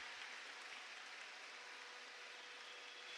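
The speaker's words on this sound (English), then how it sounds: "big applause for Team Belarus" Steady, dense applause from a large crowd at a rhythmic gymnastics world championship five-hoops final, sounding distant and continuous with no voices standing out.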